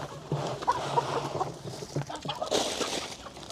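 Chickens cluck softly and intermittently while being fed alongside pigs in a rice field, faint scattered calls over light outdoor background noise.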